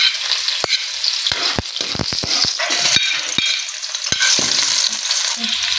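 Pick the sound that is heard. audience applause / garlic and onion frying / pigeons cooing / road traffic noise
garlic and onion frying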